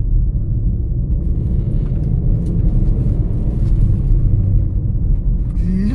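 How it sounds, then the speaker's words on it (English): Engine of a Maruti Suzuki Swift car during a downshift, a loud steady low rumble that holds for the whole stretch and climbs in pitch near the end as the revs rise. "I love to downshift on this car."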